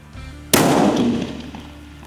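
A single sharp, loud rifle gunshot firing match ammunition cracks out suddenly and rings off with a long fading echo.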